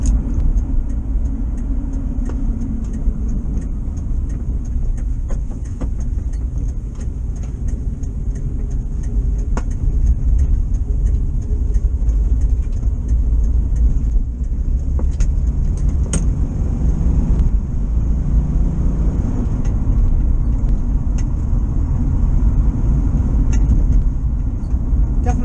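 A VW T2 camper bus engine runs with a steady low rumble and drone that holds throughout, with occasional faint clicks and knocks over the continuous engine noise.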